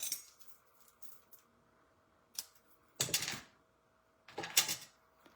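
Scissors trimming a paper craft piece for a seasonal card project, a few short crisp snipping and rustling bursts separated by near silence, close and quiet.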